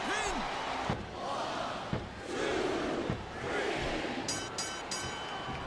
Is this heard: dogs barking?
no